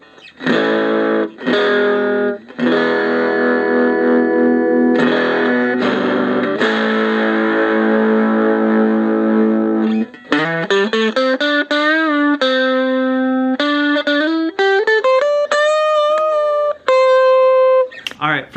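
Electric guitar played through a tiny mini amp with drive turned up, giving loud distorted chords that break into sustained feedback-tinged single notes and bends, steady and close throughout.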